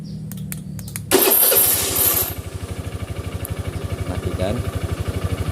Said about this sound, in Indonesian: kita akan menyalakan mesin dalam posisi kunci kita cabut ya, dalam keadaan off ya, seperti ini dengan remote